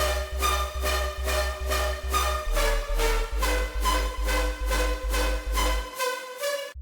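Layered melodic riddim synths over a basic sub bass, a pulsing electronic pattern with the bright synth stack chopping in a steady rhythmic beat and the deep sub notes shifting underneath, loud and up close, cutting out abruptly at the end.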